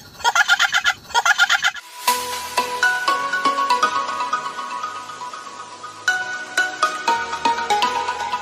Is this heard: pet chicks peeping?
yes